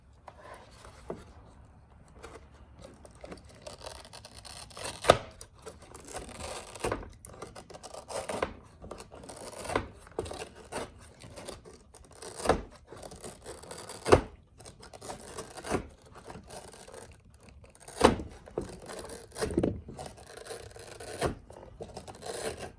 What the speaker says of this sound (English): I've got, again, my trusty Swiss Army knife, and I'm just cutting the hair and getting it out of there